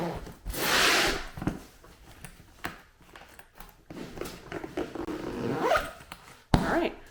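Zipper being pulled shut around a stuffed-full carry-on bag, several short rasping zips and tugs with rustling and handling noises between them, close and moderately quiet.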